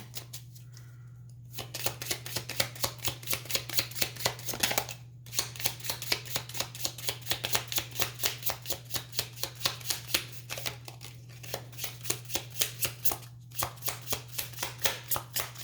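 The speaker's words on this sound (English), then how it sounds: "Last shuffle." Steady, rapid riffling of playing cards up close, repeated rhythmic flutters with brief pauses, over a low constant hum.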